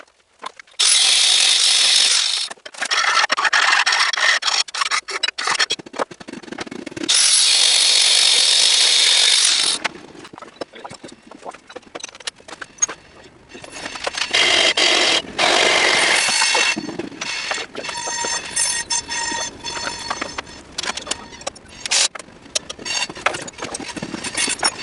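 A power tool cuts a metal piece for a lowered, pulley-swapped MTD race mower in a shop, with loud bursts of grinding and cutting separated by short pauses and lighter rubbing and clattering toward the end.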